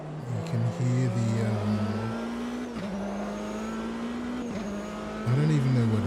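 A Daytona race car in the AMS2 racing game, its engine note bouncing and warbling under braking, with tonal revs rising and falling and a brief tire squeal, heard close and steady.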